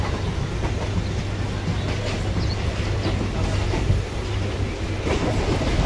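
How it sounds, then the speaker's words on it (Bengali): A Kolkata circular local train runs steadily along the tracks, with a continuous rumble and faint clickety-clack of wheels heard from on board, close and unbroken. "আমাদের ট্রেন কিন্তু এখন কলকাতা স্টেশন ঢুকছে"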